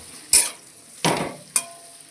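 Tomatoes with cumin, turmeric and salt being stirred in hot oil: three sharp scraping knocks of a spoon against the pan, spaced apart over a faint background sizzle.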